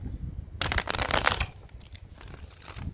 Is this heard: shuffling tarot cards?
yes